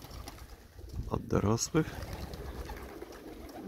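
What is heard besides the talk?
pigeons cooing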